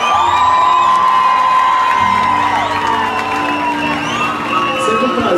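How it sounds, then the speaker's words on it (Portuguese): Concert crowd at a live show at Santa Aldeia cheers, whoops and claps in a loud, continuous roar, with music tones and voices running underneath throughout. "salva de palmas para todos vocês."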